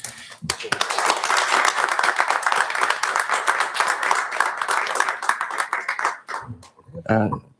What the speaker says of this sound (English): give you a round of applause at least